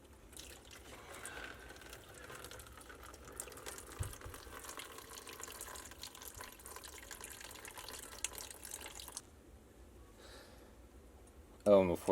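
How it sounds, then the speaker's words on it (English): Water trickles and drips from a plumbing valve during a home water pressure adjustment, a steady close wet flow for about nine seconds that then thins to quieter drips, ending with a short louder clatter. "I'll let that drip a little bit."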